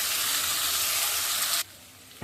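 Potatoes and onions fry in a pan with a bright, steady hiss and sizzle that cuts out abruptly near the end, then briefly returns.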